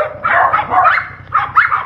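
Several dogs bark in loud, overlapping bursts close by, with a short pause near the middle before another cluster of barks, and a steady low hum runs underneath.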